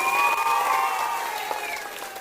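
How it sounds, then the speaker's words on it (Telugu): A crowd at Chandrababu Naidu's public speech in Kuppam breaks into applause mixed with cheering and shouts, loud at first and gradually fading over about two seconds. "దానికి వాళ్ళు అభినందిస్తున్న గట్టిగా చప్పట్లు కూడా అందరూ అభినందించండి"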